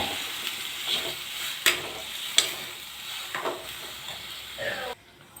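Eggplant frying in oil with a steady sizzle, occasional sharper crackles and stirring scrapes, fairly close, cutting off abruptly near the end.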